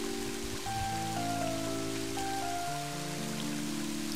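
Rain in the video game Mother 3, a steady soft patter of falling drops running throughout under sustained game music tones.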